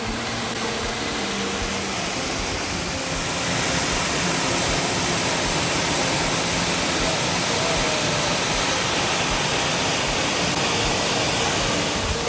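A waterfall on Oregon's Trail of Ten Falls roars as a loud, steady broadband rush that swells slightly after the first few seconds and continues unbroken, with no voices.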